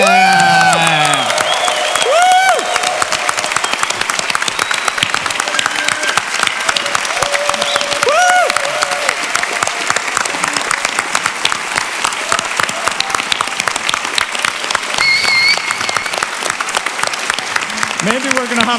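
Loud, sustained applause and cheering from a large conference crowd at the Slush 2012 startup event, continuous for the whole stretch with whoops and whistles rising above it.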